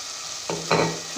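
Soy sauce and tomato ketchup are stirred in a frying pan, one short sizzling scrape and then a louder frying hiss as the spatula turns the mixture, close up.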